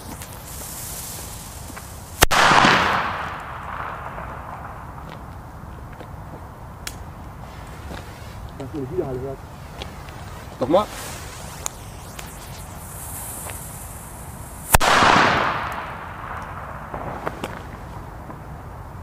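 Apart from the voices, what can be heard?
Tiger Bomb firecrackers exploding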